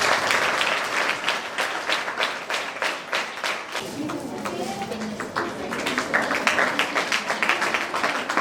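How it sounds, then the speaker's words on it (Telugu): Tenth-class schoolgirls at a school event applauding in sharp, rhythmic claps, loud and close, softening midway then building again, with voices murmuring underneath. "స్ఫూర్తి 10th క్లాస్ చప్పట్లు కొట్టాలి."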